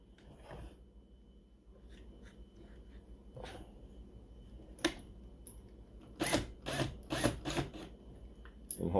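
A cheap drill bit in an electric drill cuts into a plastic bottle cap, giving short bursts of whirring and grinding that grow louder toward the end, close and otherwise quiet.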